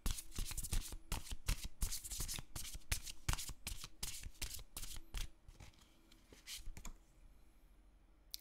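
Tarot cards are shuffled by hand in close, crisp bursts of riffling and slapping that continue rapidly for several seconds, then thin out and fade to quiet.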